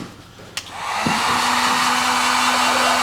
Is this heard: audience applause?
no